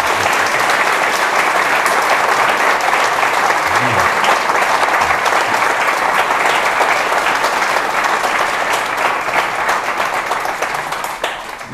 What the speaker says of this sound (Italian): Vorrei un applauso per il professore